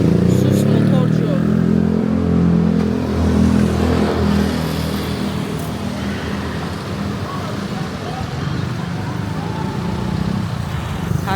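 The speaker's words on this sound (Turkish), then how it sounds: "sus motorcu." Motorcycle engine on a street in Thailand during the Songkran festival, a steady close rumble throughout with other traffic around it, under a voice talking.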